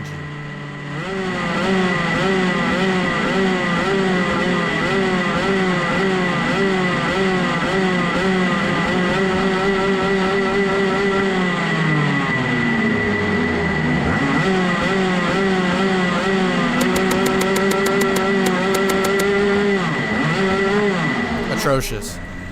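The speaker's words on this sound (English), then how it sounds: "time to warm up the sweet 125 Rotax" A 125 Rotax kart engine warms up on the starting grid, revving steadily with rising and falling pitch, loud and close throughout, with a few sharp higher bursts near the end.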